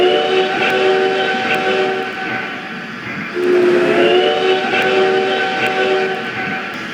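A pusher locomotive's horn answering on a railroad, two long sustained blasts separated by a brief gap, loud and fairly close, with no talking.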